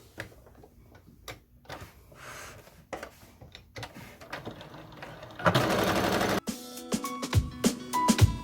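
A sewing machine stitches down the edge of an apron about an eighth of an inch in, giving a steady rapid mechanical whirr in bursts, loud and close, with a few pauses and small clicks between runs.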